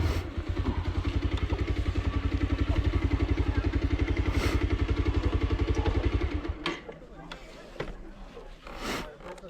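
A motorcycle engine idles with a rapid, even putter that cuts off abruptly, followed by quieter clatter and handling sounds as the bike is parked at the Unakoti tourist site in Tripura.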